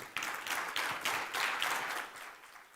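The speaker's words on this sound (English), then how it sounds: "That also deserves a round of applause." A short burst of audience clapping at a fintech conference, with several rhythmic surges of hands that fade out toward the end and no talking.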